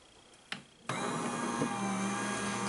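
A Gemini die-cutting machine with Sizzix plates starts up with a click and then runs alone as a steady, close motor whir with a low hum underneath.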